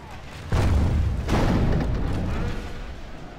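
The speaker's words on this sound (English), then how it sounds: "That was the shot from the catapult." Catapult grape shot firing in a night battle of a Dwarves of Ered Luin strategy game: a heavy booming impact, followed by a second rumbling blast, sustained and loud with low rumble.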